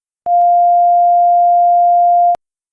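A single steady sine wave tone, pure and unwavering, holding for about two seconds with faint clicks at its start and end; loud, clean and alone.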